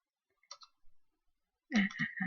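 A few faint computer mouse clicks sound near the start while an Excel VBA grade calculator is being run, followed by a person talking.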